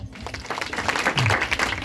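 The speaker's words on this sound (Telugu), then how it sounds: "క్లాప్స్" A congregation claps at a new year church meeting, a dense patter of hands rising slightly and holding steady for a couple of seconds.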